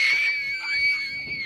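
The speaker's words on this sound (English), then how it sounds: "A woman can be heard screaming the words, "Get out," from the other side of the door." A woman screams from behind a door, one sustained, piercing shriek that wavers in pitch for over a second, heard alone at a moderate distance.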